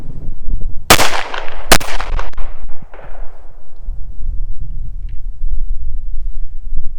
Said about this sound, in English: I'm going to be running some double taps and some triple taps out of the pistol